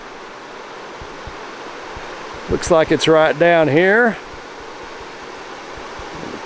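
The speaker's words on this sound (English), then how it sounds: "The creek running through a little bit of rapids." A spring-fed Ozark creek runs over small rapids, a steady broadband rush of water from nearby that holds through the whole stretch, with someone briefly talking over it midway.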